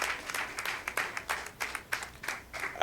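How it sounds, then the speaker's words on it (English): A small audience at a community health launch gathering gives a quiet, scattered round of applause, uneven individual claps rising and falling at a distance. "I think she deserves a stronger round of applause."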